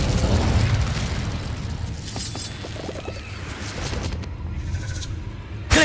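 Incendio fire spell cast in Hogwarts Legacy, a loud sustained fiery roar with booming low rumble that swells and fades, ending in a sharp burst near the close.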